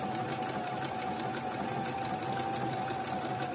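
A sewing machine runs a triple stitch through dress fabric, its motor humming in a steady, continuous drone with a faint mechanical rattle, close and even throughout with no talking.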